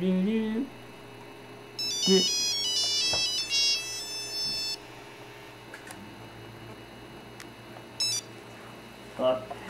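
Telephone ringtone in a home, a bright electronic warbling ring in several repeated bursts with a brief voice at the start and end, against quiet room background.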